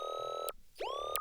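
Serum synth bass playing without distortion, a sustained tonal note with steady harmonics that cuts off, then returns with a pitch swoop after a short gap; clean, loud and alone, with no voices.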